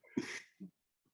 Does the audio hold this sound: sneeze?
yes